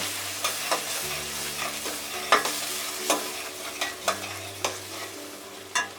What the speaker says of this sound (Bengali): এখন আমি এটা ভালো করে কষিয়ে নেব